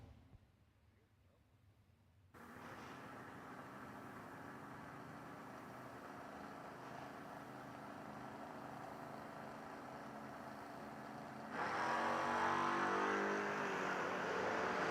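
A Mustang drag car launches from the right lane at a footbrake drag racing event, its engine surging into a loud sustained roar that swells sharply louder near the end.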